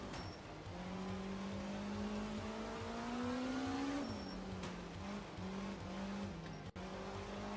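Engines of Italian rally cars in the video game Art of Rally, revving steadily with the pitch climbing, then dipping and rising again through gear changes, with faint tire noise, moderately loud and with no talking.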